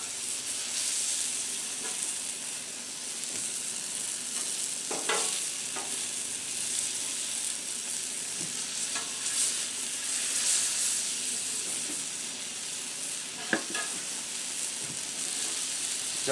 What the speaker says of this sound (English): Got a lot of steaming going on there.